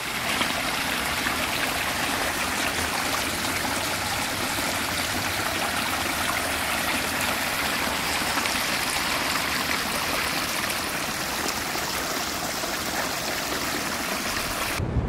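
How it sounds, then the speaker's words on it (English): A backyard pond waterfall, recently repaired, splashes and trickles in a steady, continuous rush close by, with no voices over it. "So the waterfall is looking pretty good."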